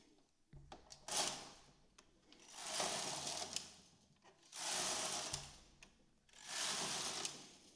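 A knitting machine carriage runs back and forth across a 1x1 rib, each pass a loud rasping whoosh with clicks at the ends, four passes in steady rhythm, close and with no talk.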